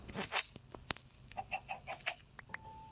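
A Minecraft chicken gives a few short clucks in a quick run, faint and close, mixed with brief clicks and taps from the game.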